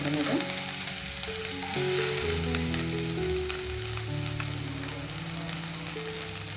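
Finely chopped onion hits hot coconut oil with mustard seeds for a Kerala-style red spinach stir fry, and it sizzles in a steady, close, even hiss of frying throughout while soft music plays underneath.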